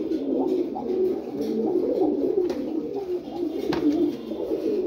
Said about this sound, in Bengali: সিলভার গোরা কবুতর জোড়া, মাশাআল্লাহ খুবই সুন্দর এক জোড়া কবুতর